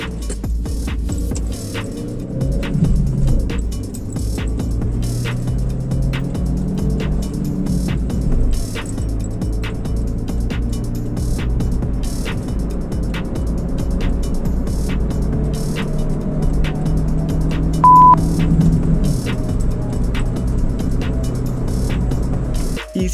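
A stock Chevrolet Optra 1.8 sprints from 0 to 100 km/h at Bogotá altitude, its engine droning loudly and climbing in pitch through several gear changes, close and continuous with no talk.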